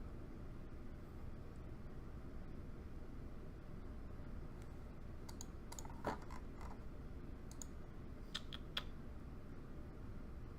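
Computer mouse clicks sound in a baseball management game, a few light, sparse taps over a steady low room hum, with no talk.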